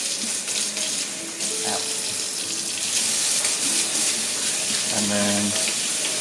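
Tap water runs steadily from a faucet while soapy hands are rinsed, a constant hiss under a short bit of talk.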